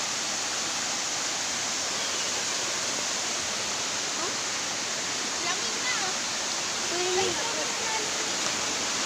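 Lambingan Falls on Sibuyan Island roars steadily into a small pool, a dense, constant rush of falling water close by, with faint voices briefly audible beneath it.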